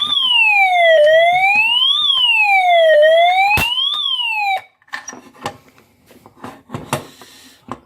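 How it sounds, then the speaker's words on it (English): A Simplex 49CMTV fire alarm sounds its siren tone at low volume, a steady wailing sweep rising and falling in smooth cycles for several seconds before cutting off, leaving scattered clicks and handling noises. "it's set on siren, low volume, and so here we go"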